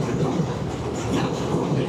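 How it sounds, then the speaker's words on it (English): A New York City 6 train on the Lexington Avenue line roars past in the Bronx, giving a loud continuous rumble with steady wheel clatter close by. "And here we have the 6 train."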